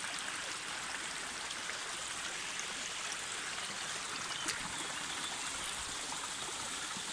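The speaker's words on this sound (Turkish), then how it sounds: "Bu da bizim harika deremiz." A small mountain creek flows beside village tea gardens. Its water makes a steady, even rushing babble that runs on alone at moderate volume throughout.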